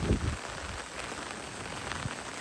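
Steady rain pours down in Savarkundla, a dense even hiss of drops on surfaces with a few low thuds at the start, continuous and fairly close with no voices.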